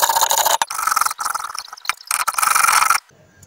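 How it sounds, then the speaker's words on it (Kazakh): An onion is rubbed hard against a hand grater for vegetable cutlets, loud close rasping strokes in a fast uneven rhythm with brief pauses, then stopping into near silence. "Пиязды да үкіштен өткіземін."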